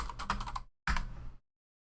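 Two short bursts of keystrokes on a computer keyboard, close and fairly loud, separated by a brief pause, then silence.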